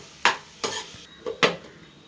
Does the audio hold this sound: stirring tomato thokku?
yes